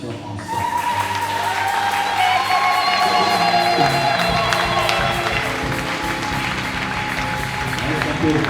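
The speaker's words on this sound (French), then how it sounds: "Est-ce qu'on peut offrir à Dieu ce matin une offrande d'acclamation ensemble?" A church congregation at a Sunday service erupts in loud, continuous cheering, whooping and clapping, a dense crowd roar with voices mixed throughout.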